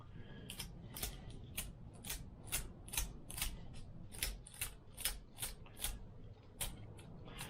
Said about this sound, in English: I just use a little screwdriver and just simply peel out